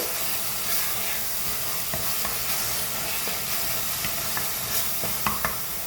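Onions sautéing in oil in a pan for chicken kothumai, a continuous close sizzle with occasional clicks of a spoon stirring.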